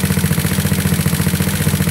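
GY6 scooter engine running with a steady low throbbing pulse and rough, popping irregularities, loud and close, with no voices.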